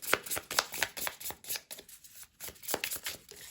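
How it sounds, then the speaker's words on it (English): Round tarot cards are shuffled by hand, a run of soft, rapid riffling flicks and slaps close to the microphone, coming in uneven bursts. "I just find it hard to shuffle these, these round cards"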